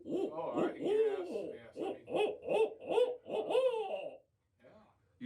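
A person imitates an owl's hoot with a voiced "hoo-hoo" call, several rounded repeated hoots in a close voice, then a brief pause.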